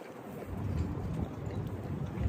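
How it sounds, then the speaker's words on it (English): Low, steady wind buffets a microphone outdoors in New York City, a muffled rumbling roar with no voices. "since it's windy and I don't have a microphone"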